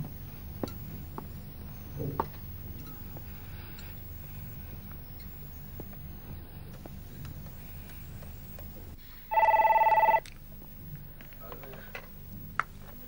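A telephone rings once in a short, loud electronic burst of about a second, standing out over quiet indoor room sound with faint clicks.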